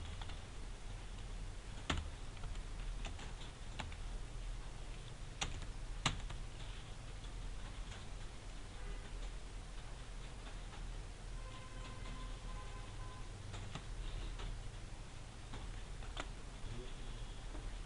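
JavaScript code being typed on a computer keyboard, with quiet, uneven bursts of soft key clicks and a few louder taps over a low steady hum, no voices.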